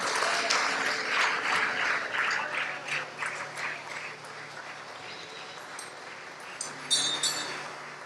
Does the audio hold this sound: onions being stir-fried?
no